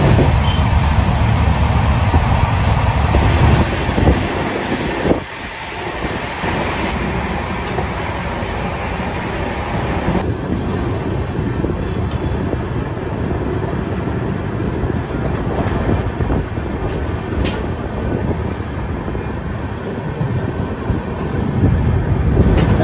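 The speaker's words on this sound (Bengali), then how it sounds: "আমাদের train Barbil Janshatabdi express cross করলো এই ঝাড়গ্রাম স্টেশন" The Barbil Jan Shatabdi Express runs at speed on its way through Jhargram station, with a loud, steady roar of wheels on rail and a rumbling carriage, and no voices.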